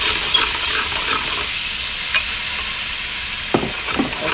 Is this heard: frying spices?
yes